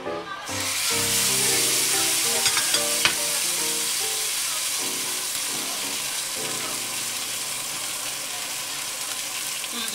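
A thick-cut Costco sirloin steak sears in a hot pan, giving a loud, steady frying sizzle with a bright hiss and a few sharp crackles and pops that hold unbroken throughout, with no talking.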